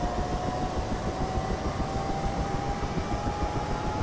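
Helicopter rotors spinning up during startup in the DCS flight simulator: a steady, dense rumble with a rising whine holding underneath, loud and continuous with no voices.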